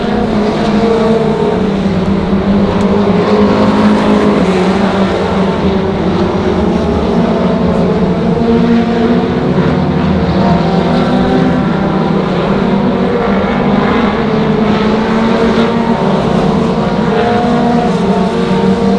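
Race cars lap the track at Monarch Motor Speedway, a continuous loud engine drone with overlapping whining tones that stays steady and close for the whole stretch.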